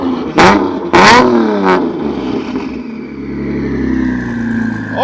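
A 1400-wheel-horsepower Nissan GT-R engine, heard up close, blips twice in quick, very loud revs with a third shorter stab. It then drops to a rumbling idle with a faint whir over it, and no one speaks.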